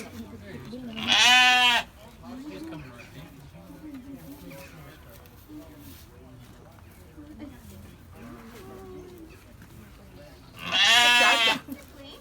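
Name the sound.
sheep bleating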